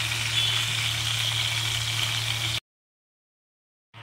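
Pomfret fish fries lightly in hot oil, giving a steady, close sizzle with a low hum beneath it. The sizzle cuts out abruptly partway through, then there is silence.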